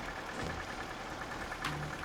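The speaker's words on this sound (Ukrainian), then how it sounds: "там трактор вже глохне трохи" An old tractor's engine in a farming video game idles roughly, starting to stall, with a low, uneven chugging that stutters and dips, steady in volume with no one speaking.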